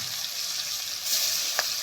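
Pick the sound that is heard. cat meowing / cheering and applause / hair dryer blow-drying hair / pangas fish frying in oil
pangas fish frying in oil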